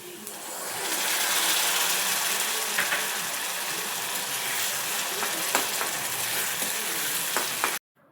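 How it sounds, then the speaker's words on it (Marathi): Tomato puree hits hot oil with browned chopped onion for rajma masala, giving a loud, steady sizzle with occasional stirring scrapes that runs for about seven seconds before cutting off abruptly. "आता आपण यामध्ये टाकूयात टोमॅटोची प्युरी,"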